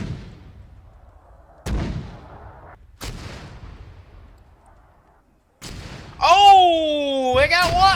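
Mortar rounds in the Arma 3 military video game fire and land as several sharp, booming reports spaced a second or so apart, followed by a rising whistling tone near the end.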